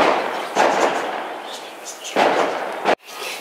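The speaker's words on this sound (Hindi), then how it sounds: "पटाखे छूट रहे हैं, छूटते ही रहते हैं" Firecrackers going off outside a flower garden in February, heard as a few sharp bangs with crackling bursts, including one abrupt loud crack near the end, against a steady outdoor background.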